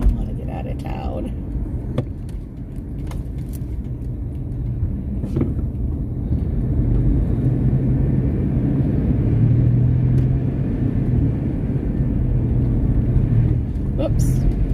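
A van drives through a small town with a steady engine and road rumble lasting throughout, a few clicks and knocks on top, and a voice speaking briefly over it.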